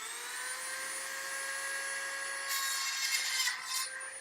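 A rotary engraving grinder bores a hole through plastic, giving a steady high-pitched whine that holds even and close, with a rougher burst of grinding near the end as the bit bites harder.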